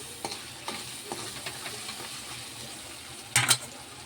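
Ingredients dry-roast in a pan with a soft, close crackle, broken by light periodic scrapes of a spoon and a sharper clatter near the end.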